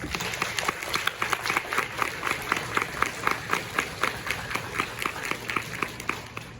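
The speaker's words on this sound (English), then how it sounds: "Let's give them a round of applause" Elementary school audience at a 1st and 2nd grade spelling bee applauds the students with steady rhythmic clapping, many hands striking in a regular pulse that carries evenly and fairly loud throughout.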